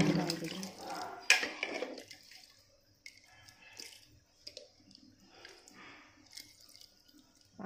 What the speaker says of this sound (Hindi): अब हम इसे इसमें जितना हमें कंसिस्टेंसी रखनी है उतना हम इसमें पानी डाल देंगे।